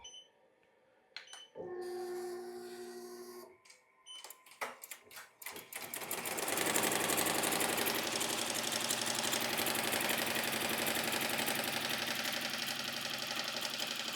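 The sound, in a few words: embroidery machine stitching placement line on vinyl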